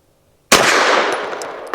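A single sharp gunshot from a Ranger Arms RA9 pistol bursts out after a moment of silence, loud and close, with a long decaying echo trailing off and faint metallic clinks near the end.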